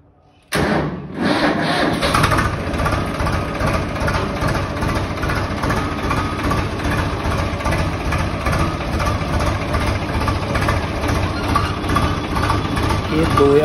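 A 2019 Swaraj 855 tractor's diesel engine fires up with a sudden thump after a short quiet moment, then settles into a loud, close, steady chugging idle that continues unbroken to the end.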